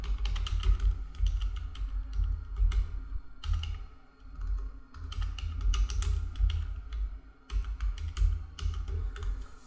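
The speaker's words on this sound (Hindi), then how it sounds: "इसमें आपको टाइप करना होगा" Rapid computer keyboard typing as a business name is entered into an online income tax return form, with irregular bursts of clicking keystrokes separated by short pauses, close and clear with no talk.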